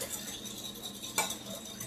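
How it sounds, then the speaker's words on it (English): A whisk beats honey into a salad dressing in a bowl, giving a steady close clinking and scraping with one sharper clink partway through. "And I'll whisk that to get the honey dissolved"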